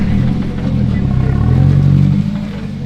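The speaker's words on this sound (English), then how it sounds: "Oh, it starts. It starts. It's a 240." A Nissan 240 with a welded differential starts up at a JDM car meet, the engine catching and rising into a loud, close, rumbling idle with a brief throttle swell before settling.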